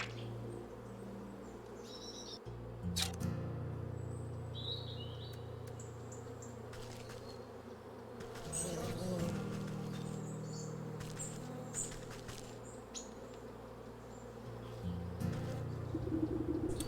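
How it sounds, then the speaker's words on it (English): Bees buzzing in the video game Wytchwood, a steady low drone running for about seventeen seconds under game ambience, with a few brief higher chimes and rises in level along the way. "Ah, the bees really don't like me."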